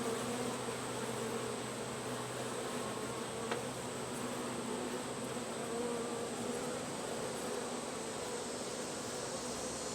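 Honeybees buzz steadily at a small opened nucleus hive after rain, a soft continuous hum from many insects close by, with no talk.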